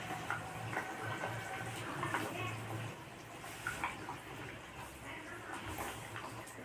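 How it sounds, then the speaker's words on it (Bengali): Hilsa fish pieces go into a simmering curry broth, giving soft wet splashes and a steady bubbling and watery sizzle at close range, with a few light clinks over a low hum. "এবার আমি মাছগুলোকে দিয়ে দেবো ঝোলের মধ্যে।"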